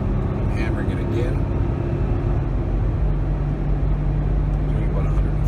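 Mercedes engine at full throttle under hard acceleration, a loud, continuous low roar heard from inside the car, with a voice talking over it.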